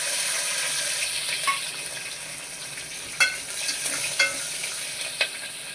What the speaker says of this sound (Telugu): ఫస్ట్ అవి నూనెలో వేడితే బాగుంటుంది